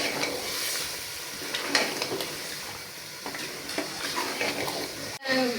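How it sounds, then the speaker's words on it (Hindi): Chicken frying in a pot for biryani gives a steady close sizzle with occasional stirring scrapes and crackles, continuing without pause. "चिकन डाल दिया मैंने। अब 10 से 15 मिनट के लिए इसको भूनते हैं।"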